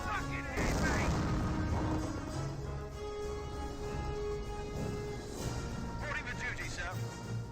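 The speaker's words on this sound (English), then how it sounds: "sector artillery finds a deadly hit there" Artillery shells from a sector barrage burst across the battlefield in Company of Heroes, a heavy rumbling explosion up front followed by further muffled booms and a steady low battle din beneath a voice talking.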